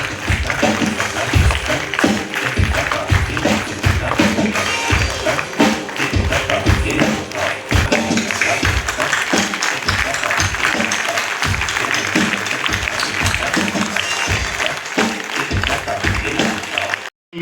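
Steady applause from an audience at an SBI officers association meeting in Vizag, continuous loud clapping with music and a rhythmic thumping beat running underneath for the whole stretch.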